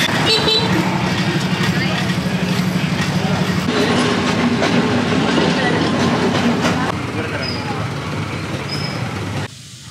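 A train passes through the station at Haputale with a steady, loud rumble and rolling rail noise that fills most of the stretch, then cuts off near the end, with people talking faintly alongside.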